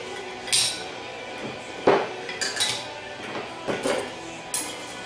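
Steel plates and friction clutch plates are stacked into a TH350 automatic transmission during a rebuild, making a series of bright metallic clinks and taps at uneven intervals, close and clear, with no talking.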